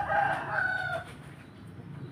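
Rhode Island chickens at a small breeder farm: a rooster crows loudly and close for about a second, followed by softer clucking and low farmyard background.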